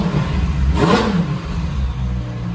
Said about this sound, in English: Oh yeah, you can hear those turbos pretty good.